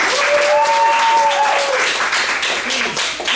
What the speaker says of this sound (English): Let's give Lynn a round of applause.